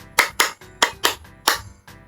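Hand claps from a children's lesson, several sharp separate claps in an uneven rhythm, close and fairly loud, with no talking over them.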